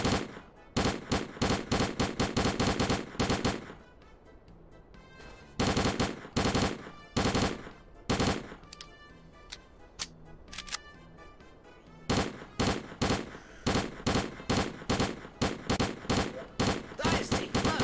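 Bursts of rapid gunfire in the video game S.T.A.L.K.E.R. Clear Sky, loud and close, coming in several volleys of quick shots separated by short pauses with quieter ambient sound.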